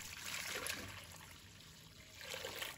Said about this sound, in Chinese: 锅中加入适量清水